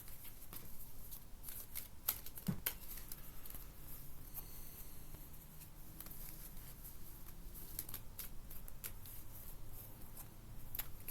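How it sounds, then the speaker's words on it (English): Tarot cards being shuffled by hand during a reading, a steady soft riffling and papery patter with a few sharper snaps, close and quiet, with no talking. "Let's shuffle again."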